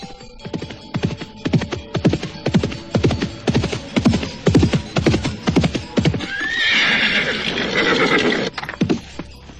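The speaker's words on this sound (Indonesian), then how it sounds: "Kita berkuda pelan-pelan saja." Horses being ridden slowly clip-clop in a steady, evenly spaced rhythm of close hoofbeats, then a loud horse whinny rises near the end.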